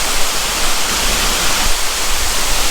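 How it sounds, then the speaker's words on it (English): Waterfall at Grassi Lakes in Canmore, Alberta, heard from its base as a loud, dense, steady roar of falling water with no break or voices. "And just like that, we've made it to the bottom of the waterfall."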